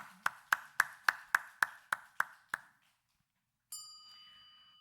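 Applause from a church congregation during a Sunday morning worship service: about nine sharp, evenly spaced claps close by, then silence and a bright ringing tone.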